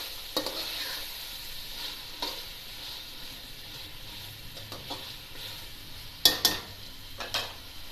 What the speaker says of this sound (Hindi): इसको भी हल्का सा भून लें।